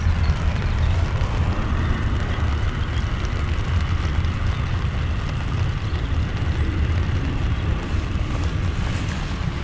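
Airliner rolling out after landing at Dublin Airport with its nose held high for aerodynamic braking, a steady loud roar of engines and rushing air mixed with heavy wind buffeting on the microphone, continuous throughout.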